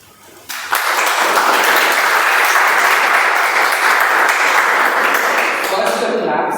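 An audience at a club meeting applauds the club's Commitment Award. A brief lull gives way to loud, sustained clapping that carries on evenly for about six seconds before tapering slightly at the end.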